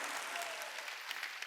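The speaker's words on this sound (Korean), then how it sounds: "깨달아서 박수치라고" A church congregation claps during a sermon, a dense, fairly distant wash of applause from many hands lasting a moment.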